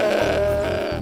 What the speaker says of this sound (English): Look, there are 3 goats.